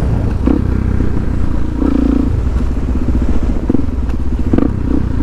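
A supermoto motorcycle ridden on a road, a loud continuous engine drone with wind rush heard from the rider's position, broken by a few brief thumps and clatters from the bike.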